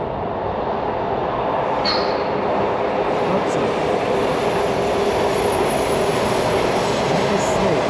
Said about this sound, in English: You hear the rumbling of the metro.